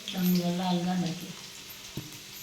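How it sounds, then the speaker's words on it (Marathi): Garlic sizzles in hot oil with a soft, crackling hiss, a voice talking briefly over the start before the frying continues alone. "मस्त आता खरपूस भाजून घ्यायचा लसूण"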